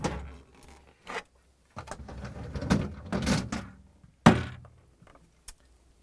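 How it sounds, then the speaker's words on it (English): Plastic vegetable drawers are pulled out of a Samsung refrigerator, giving a series of close, irregular sliding scrapes, knocks and thunks with short pauses between them. "So we need to pull out both drawers."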